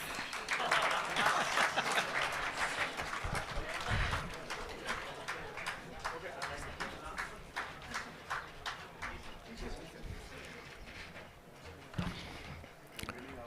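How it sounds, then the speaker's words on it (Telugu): Audience at a Law Day awards ceremony giving a round of applause, fairly quiet and thinning out into scattered claps, with a voice speaking over the clapping. "లా అవార్డ్స్కి మీరు చప్పట్ల కొట్టకపోతే ఎలా?"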